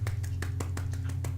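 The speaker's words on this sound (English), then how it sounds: "I give you applause for that, for sticking with me that long" Hands clap about eight times at a steady, fairly quick rhythm, close and distinct over a low steady hum, with no voices.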